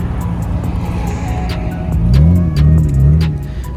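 Cars roll through a crowded car meet, a Nissan R34 among them; a close engine rumbles and swells with revving midway, with faint clicks and crowd noise around it.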